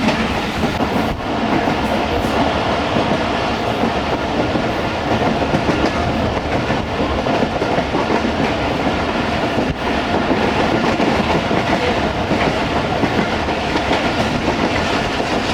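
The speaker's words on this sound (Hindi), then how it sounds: "मज़ेदार प्लेटफॉर्म के साथ ट्रेन घूम रही है जी लाहौर में" The Musa Pak Express railcar train rolls along near Lahore, a loud, continuous rumble with steady clickety-clack from the wheels on the rails, heard from inside throughout.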